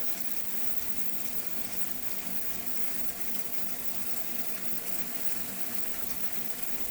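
Tap water runs steadily into a sink, filling it to soak surgical tubes in a surgery prep room; a continuous, even gush with no speech.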